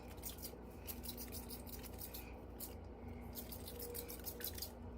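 A spray bottle mists water onto curly hair in quick, repeated bursts of soft hiss, close by and fairly quiet, in a steady rhythm.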